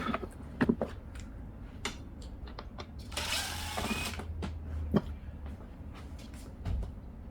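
A screw being taken out of a 2024 Ford Bronco seat during a heated leather seat upgrade: faint clicks and ticks of the tool, with a short rasping burst midway, quiet and close with no voices.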